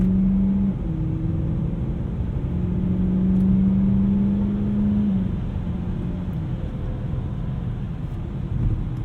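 A 2010 BMW E92 M3 on winter performance tires cruises with a steady low engine drone and road rumble heard from inside the cabin, with a brief rise in engine pitch early on.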